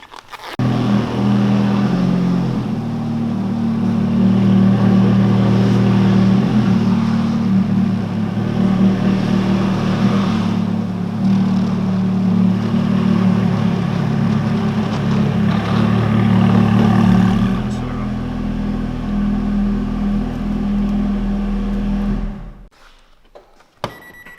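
A Ferrari F430 on a test drive after an E-Diff bleeding procedure, its engine droning steadily and close for over twenty seconds with a strong low rumble, then cutting off near the end; no one speaks.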